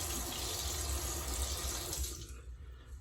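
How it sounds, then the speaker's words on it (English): Hot water runs steadily from a tap over a pipe razor, a continuous close hiss of flowing water that cuts off about two-thirds of the way through, leaving quiet room tone. "Run it under a little bit of hot water."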